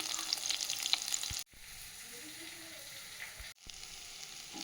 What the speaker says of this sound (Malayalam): ഇഞ്ചി, വെളുത്തുള്ളി, പച്ചമുളക് ഇട്ടൊന്ന് വഴറ്റിയെടുക്കണം.